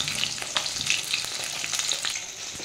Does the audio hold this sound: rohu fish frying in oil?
yes